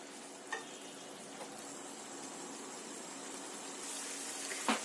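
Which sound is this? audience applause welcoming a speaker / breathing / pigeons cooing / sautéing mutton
sautéing mutton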